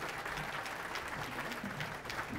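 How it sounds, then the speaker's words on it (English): A conference audience applauding a speaker, a dense, steady wash of many hands clapping at moderate distance, sustained throughout without voices. "Give her a great hand of applause"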